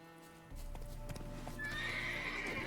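A horse in The Witcher 3 clops its hooves in a quick run of steps, then lets out a loud, bright neigh that rises and holds near the end, close and clear with no talk.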